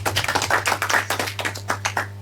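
Applause for a young contestant on a junior quiz show, a brisk, uneven burst of hand claps from a modest studio audience, fairly close and alone without talk.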